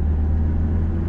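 Car engine heard from inside during a driving lesson as the car accelerates in second gear, a loud, steady low rumble close up with no talk.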